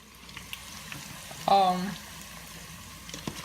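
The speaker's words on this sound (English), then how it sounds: "With your plantains, when you put it in your deep fryer, just check up on it." Plantain pieces deep fry in hot oil with a faint, steady sizzle, broken once by a short tonal voice-like sound.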